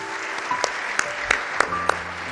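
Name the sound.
audience applause in church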